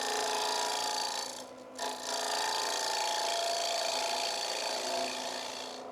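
A turning tool on a wood lathe makes light trimming cuts on a hollow wooden form, giving a steady, close scraping hiss with a whirring hum. It dips briefly midway and then resumes evenly.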